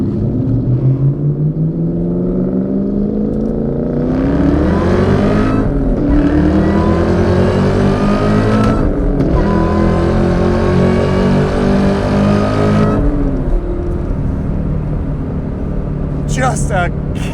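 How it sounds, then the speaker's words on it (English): A 2003 Ford SVT Cobra with Borla exhaust accelerates hard, its engine climbing through the gears with a loud supercharger whine and a steady, close exhaust roar that fills the whole stretch, briefly dipping at shifts. "Love that supercharger whine. The Borlas sound absolutely kick-ass coming out the back."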